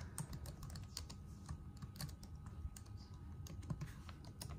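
Rapid, irregular keystrokes clatter on a computer keyboard, quiet and close, with brief pauses between bursts of clicks over a low room hum.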